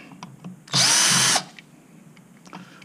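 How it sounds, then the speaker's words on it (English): A power drill with a Phillips bit whirs loudly for under a second, driving screws, close up, between quiet handling clicks before and after. "I'm using a Phillips head screwdriver, attached to a power drill."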